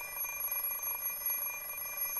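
An alarm clock rings in the Fate/Stay Night visual novel, giving a steady high electronic tone that runs continuously and fairly quietly with no talk.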